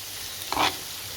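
Food with tomato stews softly in a pan, with a brief louder stir or scrape in the middle against a steady low hiss.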